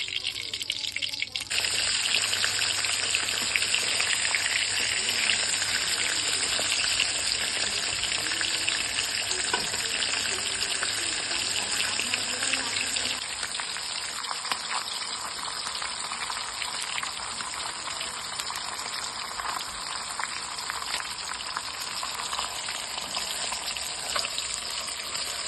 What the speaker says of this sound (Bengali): গরম কড়াইয়ে এখন আমি তেল ঢেলে দেব। এবং মাছের মাথাগুলো এক এক করে আমি ভেজে নেব।